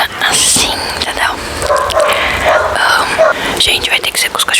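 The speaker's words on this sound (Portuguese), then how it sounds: "vai ter que ser com os cachorros latindo" Several dogs bark and yip in short bursts at a house, loud and fairly close, running under a woman's whispered speech.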